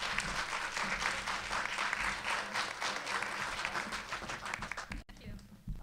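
An audience applauding to welcome speaker Kerry Kennedy, a full steady wave of clapping from a crowd in a hall that fades near the end.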